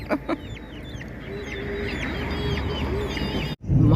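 Several chickens cluck and chatter nearby while pecking at coconut in bright sun, a busy, overlapping stream of calls over a steady outdoor background, briefly cut off near the end.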